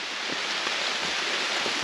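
Rain falls on a dense forest canopy along the Vermont Appalachian Trail, a steady soft wash of pattering with no voices.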